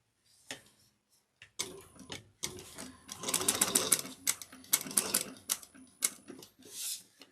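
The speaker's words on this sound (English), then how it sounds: "now we're going to top stitch this 1/8 of an inch down the side seams" Sewing machine top stitching the side seams of a fabric bucket bag, running in short bursts of rapid mechanical clatter with brief pauses between, loud and close.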